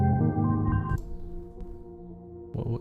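A Blooper looper pedal plays back its loop of ambient electronic-classical music: sustained, tonal layered notes that thin out and then swell again near the end, steady and close.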